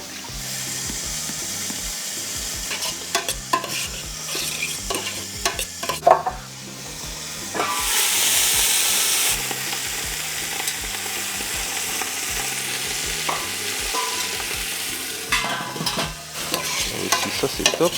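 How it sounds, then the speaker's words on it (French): Lentils sautéing with spices in a pan for a Réunion-style rougail meal, a steady close sizzle with repeated scraping stirs, briefly broken by a louder rush of hiss midway. "Pour faire revenir un peu plus les lentilles dans les épices"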